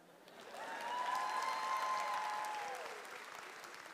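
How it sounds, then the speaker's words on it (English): Applause and cheering from a university commencement audience, swelling to a steady peak and holding, with a voice or tone sustained above it, then easing slightly toward the end. "the biggest cheer should be for the next one, because she's my wife, Rehana."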